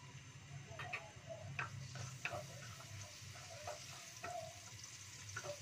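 Sliced onions frying in a pan for capcay, a steady soft sizzle with scattered light ticks and stirring clinks throughout, moderately close and unaccompanied by talk.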